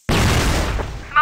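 Flash bomb exploding in the shooter game CrossFire, a single loud close boom with a short decaying rumble lasting about a second.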